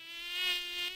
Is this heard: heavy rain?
no